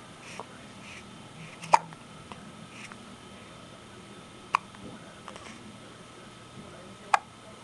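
Three sharp, isolated hiccups sound at irregular intervals several seconds apart over faint background hiss, with soft clicks in between.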